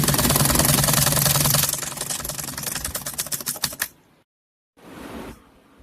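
A sewing machine stitches fabric for a small Kanha Ji dhoti, running in rapid even clatter that slows into distinct stitches before stopping, then a short burst resumes after a pause.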